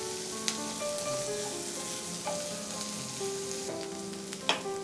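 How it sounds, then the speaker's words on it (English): Sliced onions sauté in a pan over a medium flame, giving a steady moderate sizzle with a few light stirring scrapes and clinks, no voices. "To this we'll add some sliced onions and we'll saute this on a medium flame for 2 to 3 minutes"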